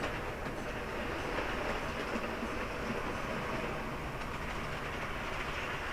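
An OO gauge model train runs steadily along shelf layout track, a continuous close rolling rumble with faint rail clatter throughout, no voices.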